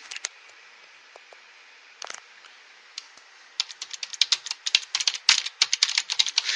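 Keyboard keys clack sparsely at first, then in a quick, busy burst of typing close to the mic.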